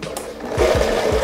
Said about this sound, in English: Now I blend.